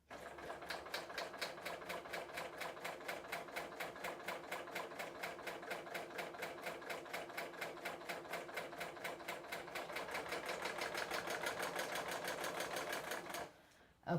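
Serger sewing machine trimming a fabric edge with its knife, a fast steady mechanical whirr of rapid regular stitching that runs alone for about thirteen seconds, then stops abruptly.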